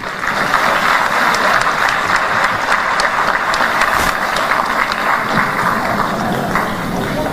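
An audience at a public lecture by Namibia's president breaks into loud, sustained applause, a thick wash of many hands with a few sharper individual claps standing out, holding steady throughout.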